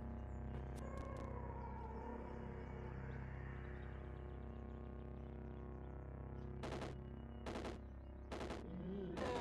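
Gunfire in the video game Caves of Qud comes as a few sharp, separate shots late in the passage, set over a steady droning game soundtrack with a faint voice early on.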